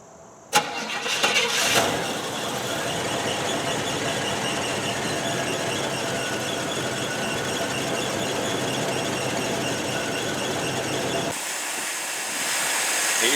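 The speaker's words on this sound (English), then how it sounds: "There you go, the Buick 350 in action." A Buick 350 V8 cranks with a brief belt squeal, catches and settles into a steady, loud idle that runs for about ten seconds before cutting off abruptly.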